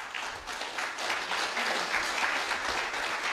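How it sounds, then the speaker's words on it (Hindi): An audience claps together for a person at a business gathering, a steady wash of applause that holds for a few seconds at moderate loudness. "एक बार ताली बजाओ उनके लिए"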